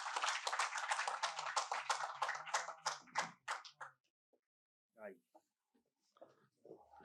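A small audience at a poetry gathering applauds in a brisk burst of clapping that fades out after a few seconds, followed by quiet scattered speech.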